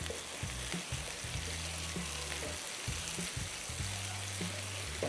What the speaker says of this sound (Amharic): ነጭ ሽንኩርቱን አጨምራለሁ። ነጭ ሽንኩርት ይገባል።